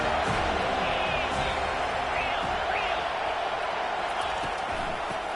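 A crowd roars in an American football video game, a dense, continuous wash of cheering that holds steady in the background throughout.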